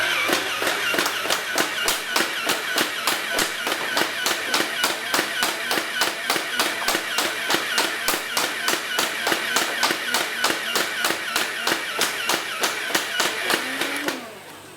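Nerf Rhino Fire toy blaster firing foam darts at a target about 20 feet away, a steady rapid run of sharp mechanical clacks, a little under three per second, continuing for about fourteen seconds before stopping abruptly.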